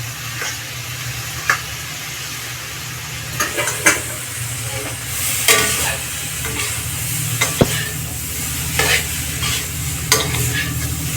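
Boiled rice stirred and fried in a pan for a restaurant-style dish, giving a steady close sizzle with scattered scraping clicks of the spoon throughout and no voices.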